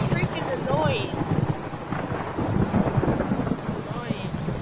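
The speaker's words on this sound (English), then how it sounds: "I hate it when they put rain in games, because it just makes the game feel so sad." Rain and rolling thunder in a Roblox game, a steady wash of rainfall with low rumbles throughout, loud and continuous, with no talk over it.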